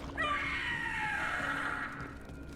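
A drawn-out enemy scream in the video game Dragon Age: The Veilguard, a loud, strained wail sustained for nearly two seconds before trailing off, heard close and alone.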